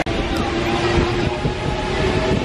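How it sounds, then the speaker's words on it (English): Paris metro train riding along, a steady loud rumble and rolling roar that fills the whole stretch without a break. "we're getting on the train"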